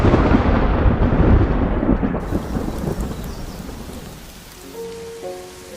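Heavy rain pouring with deep rolling thunder, loud and close at first, then easing into softer rainfall as the rumble fades away.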